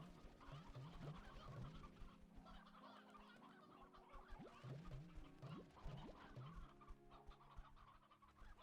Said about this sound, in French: c'est quoi cette armada de coqs?